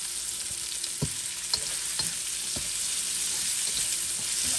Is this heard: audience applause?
no